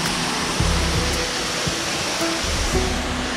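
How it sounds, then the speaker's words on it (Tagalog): The main waterfall of 8-8 Falls on Mt. Balagbag roars as a loud, dense, continuous rush of water close by, with faint low knocks and tones now and then. "Pero ito yung pinaka main na falls. Ito yung tinatawag na 8-8."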